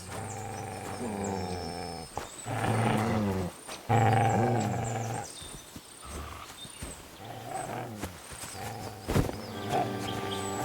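A dog growls and snarls in the medieval role-playing game Kingdom Come: Deliverance 2, in rough, throaty bursts that come and go across several seconds over a dense game soundscape.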